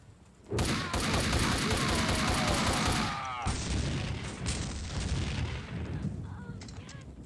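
A grenade blast and gunfire in the Max Payne 2 video game, a loud burst that erupts suddenly and then rolls into a dense, continuous barrage of shots and rumbling debris that slowly fades.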